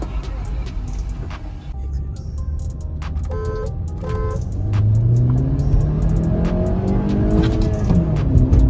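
Honda Accord and Skoda Octavia with a DSG gearbox launching in a drag race, engines roaring and revving upward with tire noise, loud and sustained, while people talk excitedly nearby.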